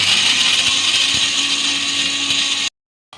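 A kitchen mixer grinder churns spiced masala into a fine paste for horse gram palya, with a loud, steady high-pitched whirring motor that cuts off abruptly near the end and then restarts briefly.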